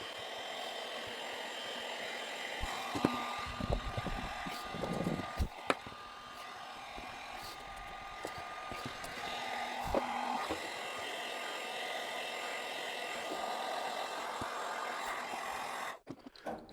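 A heat gun blows a steady whooshing stream of hot air onto a glued accessory on an inflatable PVC boat, with occasional light knocks and handling taps before the air cuts off near the end.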